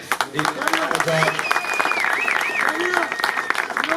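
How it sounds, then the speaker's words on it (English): A crowd at an Ozone Park protest against a new homeless shelter applauds steadily for about four seconds, with voices talking over the clapping and a thin whistle-like tone rising and falling in the middle. "How about a round of applause for Sam?"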